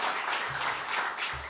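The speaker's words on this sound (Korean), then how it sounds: "이렇게 환호해 주시니 몸둘 바를 모르겠습니다" A church congregation breaks into applause, a dense, continuous clatter of many hands clapping at close range, with brief low murmurs of voices underneath.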